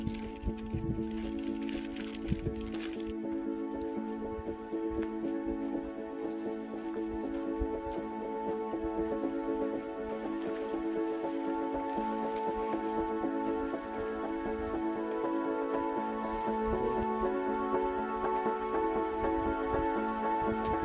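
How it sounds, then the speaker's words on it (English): Rain falling on a hiking trail in Utah, a steady patter of drops on surfaces that continues evenly from start to finish with a few sharper taps near the beginning. "first rain of the trip, which is kind of nice"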